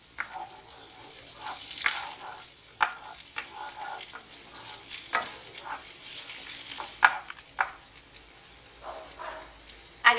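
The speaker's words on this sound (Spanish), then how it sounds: "Vamos a citronar la cebolla." Onion sautéing in olive oil in a pan for Mexican-style huitlacoche, a steady sizzle broken by scrapes and clinks of stirring, close and moderately loud with no talk.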